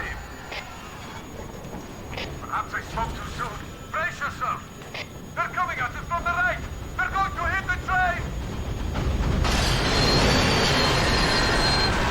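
In the video game Resistance 3, a train rolls along rails with metallic rumble and bursts of squealing wheels, building to a loud, steady roar near the end while someone talks over it.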